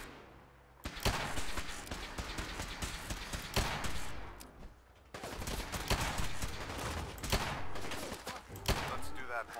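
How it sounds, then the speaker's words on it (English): Gunfire rattles in the video game Fallout 4 with a combat mod, in loud, dense bursts of rapid shots that repeat with brief pauses between volleys. "I hear gunshots."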